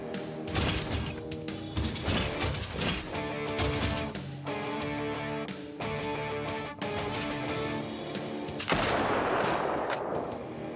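Shotgun and other gunfire in the tactical video game Kriegsfront Tactics sounds as dense, continuous loud bursts of shots and impacts layered over game music, ending with a harsh blast.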